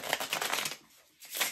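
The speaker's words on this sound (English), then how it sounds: "I'm going to pop up the game board as I shuffle" A deck of playing cards is shuffled, giving a brief, crisp riffle of rapid fluttering clicks, then a pause and a shorter burst of card noise, close and fairly quiet.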